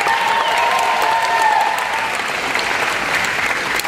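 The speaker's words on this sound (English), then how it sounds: "how about a round of applause for all our staff at the Black Shirts today?" A round of applause for the staff at a summer baseball camp, steady clapping from a gathered group that holds loud and even throughout, with a faint tonal hum beneath it.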